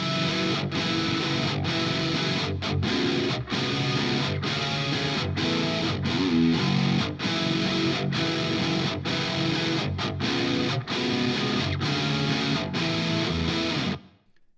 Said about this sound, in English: This is these 2 guitar tracks over here.